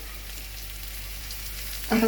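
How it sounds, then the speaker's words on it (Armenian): Squeezed zucchini fries in a pan with a steady, soft, hissing sizzle throughout. A brief louder clatter comes right at the end. "Եվ դդմիկն էլ ենք տապակում"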